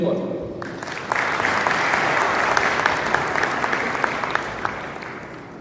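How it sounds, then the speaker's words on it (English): Audience applause at the 4th Pakistan Remittance Summit in Rome, a dense, steady round of clapping that swells after a quiet start and holds loud and continuous to the end. "a huge round of applause for Mr. Ali Raza Sayed as well"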